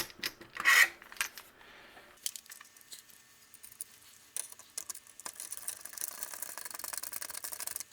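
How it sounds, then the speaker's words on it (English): Small hex screws are driven into an Xbox motherboard during an HDMI mod install, with a sharp clack near the start followed by quiet, intermittent scraping and ticking of the screwdriver, close by with no voices. "I'm just going to take these hex screws that are provided with the kit and just get them locked into position where they belong."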